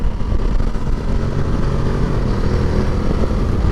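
Ducati Multistrada 950 S motorcycle being ridden, with a steady, loud engine drone and rushing road and wind noise that holds constant throughout, with no talking.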